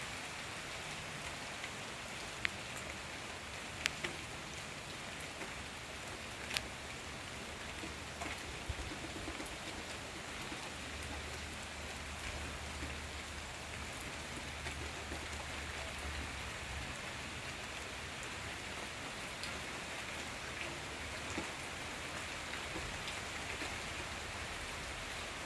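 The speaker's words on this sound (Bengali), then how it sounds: "আমরা শুধু এখন বৃষ্টির শব্দ শুনবো আর বৃষ্টিটা দেখব।" Rain falling at night, a steady close hiss of drops with occasional sharp taps and faint low rumbling beneath, no voices throughout.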